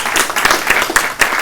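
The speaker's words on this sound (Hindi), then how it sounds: "शर्मा जी के लिए जोरदार तालियां।" An audience at a materials management seminar in Ludhiana applauds loudly for Sharma's presentation, close, vigorous clapping that swells and dips briefly.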